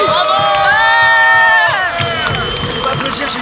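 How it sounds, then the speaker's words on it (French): Large crowd at Japan Expo cheering and applauding the Battle League 2019 champion, a loud sustained roar with whistles and shouting voices over dense clapping throughout. "Méga, giga tonnerre d'applaudissements pour le champion de la Battle League 2019."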